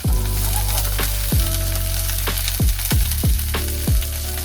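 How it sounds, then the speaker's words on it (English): Mushrooms and onions sautéing in olive oil in a pan, a loud continuous sizzle broken by several sharp knocks and clatters from stirring, close up with no voices. "We're gonna saute some mushrooms"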